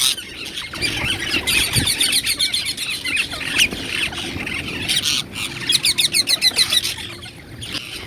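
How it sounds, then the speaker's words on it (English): Parrots feeding on rice, guava and peanuts squawk and squeal in harsh, repeated bursts from several birds at once, loud and close over a steady busy background. "We enjoyed every day as the birds come and eat, and the noise come from them is fantastic to hear"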